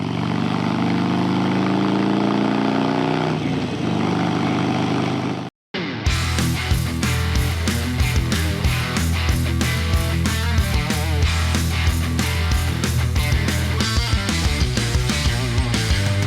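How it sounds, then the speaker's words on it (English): A Harley-Davidson Sportster 1200 with a 2-into-1 exhaust idles close up with a deep, lumpy exhaust rumble, then a brief cut before the throbbing beat continues loudly. "This one has a sensational sounding 2-in-1 exhaust."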